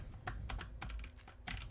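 Quick, close typing on a computer keyboard, a burst of light key clicks in an irregular rhythm, fairly quiet against a low background hum.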